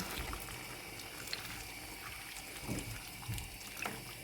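Water poured from a container into a cooking pot of soup, a steady close splashing and gurgling stream that runs without pause at moderate level, with no talking.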